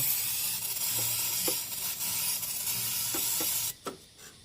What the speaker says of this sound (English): just lifting up the throttle and just spraying it around in there